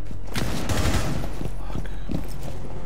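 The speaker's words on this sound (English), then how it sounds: "I wanna make a hole with my gun in this wall." Gunfire in Rainbow Six Siege, with dense bursts of shots fired at close range into a wall, loud and sustained across the whole moment.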